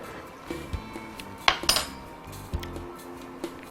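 A spoon clinks against a pot of thick homemade steak sauce, a few light metallic taps and scrapes spaced out over a few seconds, close and fairly quiet.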